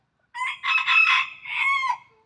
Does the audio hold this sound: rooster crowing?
yes